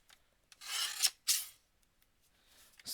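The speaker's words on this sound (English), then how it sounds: "So I'm gonna cut this down a little bit more then." Card stock for a card kit is trimmed down in two short, close scraping strokes, each a brief rasping swipe with a pause between them and no talking.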